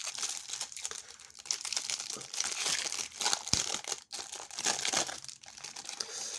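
A plastic sachet of Magic: The Gathering promo cards is torn open, giving close, irregular crinkling and crackling with a sharp snap near the middle.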